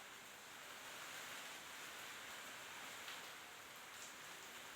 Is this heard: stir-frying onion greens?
no